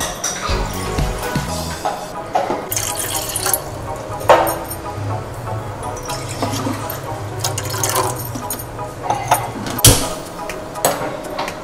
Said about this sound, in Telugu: కొంచెం దీని బెల్లానికి కరగడానికి సరిపడ వాటర్ వేస్తే సరిపోతుంది. కొద్దిగా వాటర్ వేద్దాం.